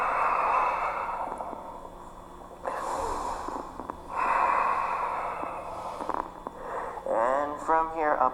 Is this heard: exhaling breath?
yes